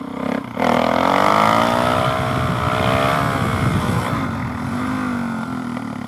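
Knobby-tired dirt bike on sand, engine revving hard and rising in pitch through a short wheelie, a loud, close, continuous throaty drone that eases slightly toward the end.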